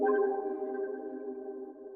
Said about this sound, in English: I added one more accent which I got from the sound kit Euphoria, and this is the accent right here that I had chosen